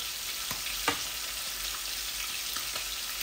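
Garlic fries in hot oil for a mustard fish curry, a continuous close sizzle broken by a couple of light stirring knocks, with no talking.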